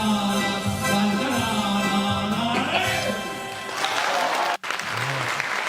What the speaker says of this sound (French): Et tout le monde applaudit